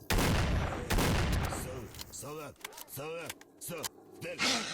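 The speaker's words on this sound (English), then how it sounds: "Probably better to use the shotgun, actually." Shotgun blasts in S.T.A.L.K.E.R.: Shadow of Chernobyl, a dense burst of loud, close gunfire in the opening seconds, followed by intermittent sharper reports mixed with other game sounds.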